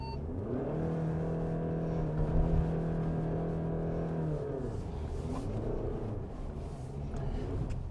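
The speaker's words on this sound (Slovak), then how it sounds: "Môžete hodnotiť, ako nám hrabú kolesá." The engine of a Volkswagen Passat Alltrack 2.0 TDI 4MOTION drones steadily as its wheels dig for grip on an off-road slope. The engine holds a sustained strained tone, then loosens into a rougher, shifting rumble.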